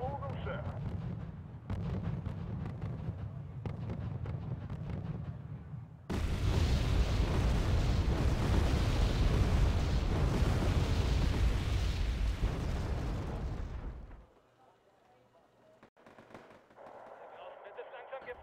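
Artillery bombardment in the video game Wargame AirLand Battle, with loud rumbling explosions and bursts of gunfire, a dense barrage in the middle that fades to scattered distant booms.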